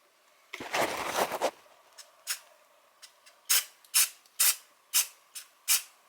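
Touch-up coating sprays from an aerosol can beneath a corner pedestal sink: a longer hissing burst first, then a run of short, sharp, close spurts in a fairly even rhythm, with no talking.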